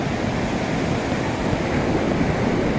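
Sea waves at Pasi Ujoeng Seuke beach in Bireuen, Aceh, heard as a steady broad roar of surf mixed with wind, loud and unbroken from start to end.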